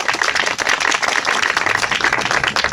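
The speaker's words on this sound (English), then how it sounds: "Give a round of applause." Crowd at a pro-Palestine rally applauding an incoming speaker, a steady dense wash of clapping hands that stays loud and even for the whole stretch, with no voices over it.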